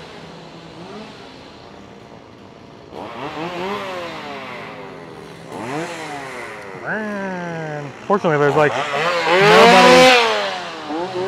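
Chainsaws revving at the Howl-O-Scream Halloween haunted event at SeaWorld Orlando, loud repeated rising and falling engine whines in bursts that build toward the end, with people talking over them.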